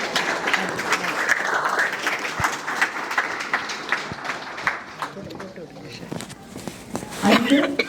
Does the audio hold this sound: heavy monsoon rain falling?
no